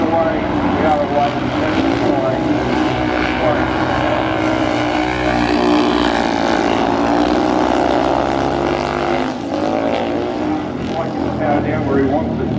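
Upright speedway bikes ridden by racers aged 50 to 60 roar around the Gillman Speedway track at the Australian Masters Games, a loud sustained engine drone rising and falling over nearly thirteen seconds as a commentator talks over it.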